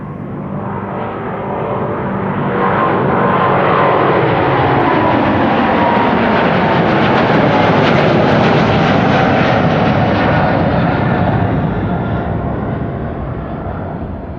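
KLM Boeing 777-200 PH-BQC, a 22-year-old jet, passes at Amsterdam Schiphol with a broad engine roar that swells to a peak midway, then slowly fades, heard alone without voices.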